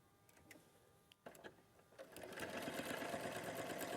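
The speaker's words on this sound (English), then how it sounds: "And then I'm going to sew this one on." A sewing machine stitches fabric, starting with a few scattered clicks and taps before the motor runs up into a steady, fast whir of continuous stitching, close and fairly quiet.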